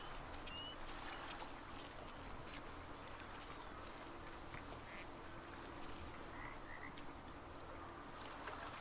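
Ducks quack in a hunting video game, scattered calls over a dense, steady wetland ambience of croaking and water noise, fairly faint and continuous.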